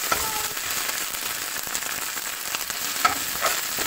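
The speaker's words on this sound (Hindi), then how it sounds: "अब इसमें ऐड कर रही हूँ मैं जिंजर गार्लिक पेस्ट" Ginger garlic paste fries with onions in a pan for a boiled egg masala curry, making a steady crackling sizzle with scattered small pops and one sharper spoon tap.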